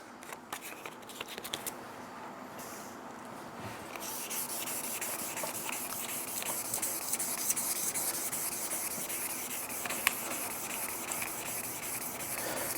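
A steady, fine hiss of 1000-grit wet sanding across an epoxy and timber serving board, with a few irregular scrapes early on and then a continuous even rub; no talking.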